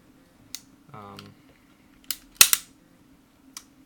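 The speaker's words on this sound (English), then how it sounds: "You can go from here and immediately start shooting." A KJW Sig P229 airsoft gas blowback pistol fires a few sharp, close cracks with short gaps between them, mixed with lighter mechanical clicks and a brief tonal whir.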